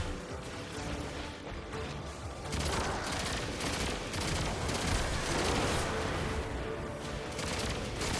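A pulse rifle in the video game Destiny 2 fires in rapid bursts. The shots are loud and continuous, with heavy impacts and a thick combat din, and no voices are heard.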